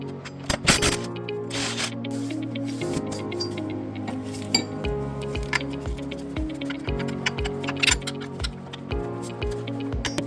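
A ratchet with a 16mm socket loosens the front driveshaft bolts on a BMW X5, a steady run of quick metallic clicks close by, with intermittent clinks and knocks of tools against metal under faint background music.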